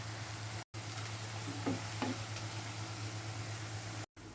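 Jackfruit pieces frying in coconut oil give a steady hiss with a low hum underneath and a couple of faint knocks partway through. The sound is close but quiet, with no talking.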